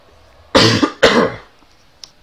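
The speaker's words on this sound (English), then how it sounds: "Had to clear my throat real quick." A man clears his throat twice in quick succession, two short, close, rough bursts, followed by a faint click and then quiet.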